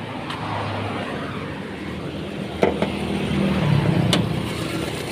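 The engine of a 2001 KIA Visto idles smoothly with a low, even hum and light background noise, broken by a couple of brief clicks.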